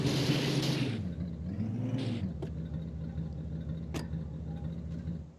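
A car in an MTA roleplay video game drives steadily with a continuous engine rumble and whir. The pitch rises and dips early on, then settles into an even hum, with a couple of brief clicks.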